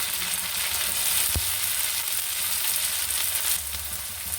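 Chopped tomato dropped into a pan of browned onions, giving a steady bright sizzle with a single sharp clink partway through.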